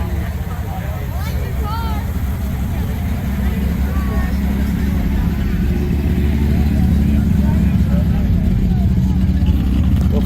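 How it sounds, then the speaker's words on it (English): Datsun 280Z with newer bumpers and a non-stock, overcarbureted engine driving past at an outdoor cruise car show in Medford, a steady loud engine rumble that builds as it nears, with people talking over it. "Oh, oh, here comes that Z car."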